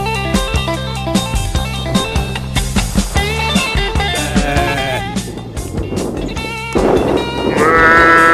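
Sheep bleat repeatedly at close range in Denmark, their voices overlapping in a dense, busy flock chorus that swells louder toward the end.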